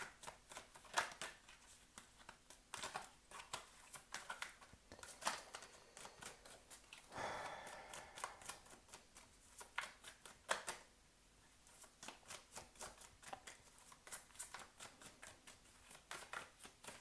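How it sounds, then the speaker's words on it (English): Tarot cards being shuffled by hand in a quiet room, a long run of soft, rapid riffling bursts and slaps, close and fairly faint, with a brief pause midway. "We're gonna shuffle again and see what we have coming out."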